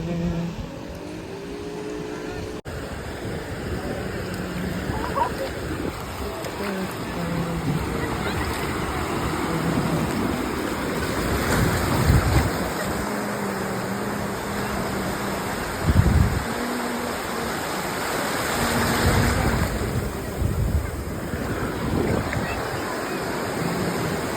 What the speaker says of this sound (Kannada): ಗೋವಾಕ್ಕೆ ಬಂದು ಸಮುದ್ರ ನೋಡ್ಕೋತಾ ಕೂತಿದ್ದೀವಿ